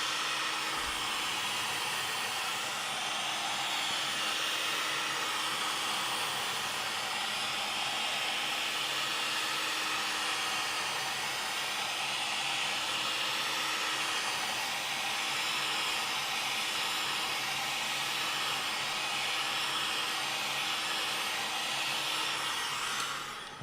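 Heat gun blowing steadily on a foam turtle shell piece, a continuous loud airy whoosh with a broad hiss that holds even throughout, no talking.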